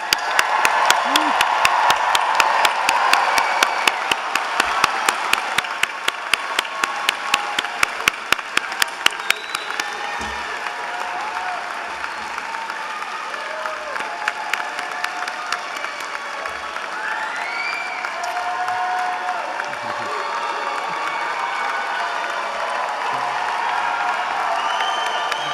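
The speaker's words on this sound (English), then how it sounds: "That was a good, healthy applause." A law school hooding ceremony crowd gives graduates a long, loud ovation of dense clapping with cheers and whoops, the applause strongest early and then settling into a steady wash.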